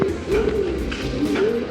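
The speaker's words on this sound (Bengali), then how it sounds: "এখানে সব হচ্ছে ফেন্সি কবুতরগুলো।" Fancy pigeons, including Indian fantails, coo in a loft: soft, rolling low coos repeat in a steady rhythm over a couple of seconds, fairly close and moderately loud.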